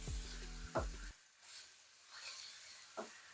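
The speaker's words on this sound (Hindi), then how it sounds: "चिकन को फ्राई करेंगे। इसका कलर चेंज होने तक फ्राई करेंगे इसको।" Chicken pieces frying in a pan on medium heat, a soft steady sizzle under brief stirring clatter, with a low hum fading out early.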